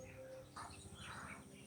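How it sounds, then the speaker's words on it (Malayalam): Birds chirp softly on a quiet, peaceful hilltop viewpoint near a temple, a few faint, thin calls over a low background hum. "കിളികളൊക്കെ സൗണ്ട് കേൾക്കാമെന്ന് തോന്നുന്നു"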